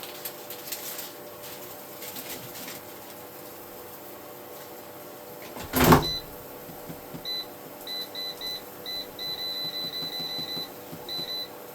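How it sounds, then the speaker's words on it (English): An air fryer loaded with broccoli is started in a home kitchen: a brief burst of handling noise, then a series of short electronic beeps from the control panel in quick irregular groups over a faint steady hum. "let's put the broccoli in the air fryer. Let's cook it for a couple minutes"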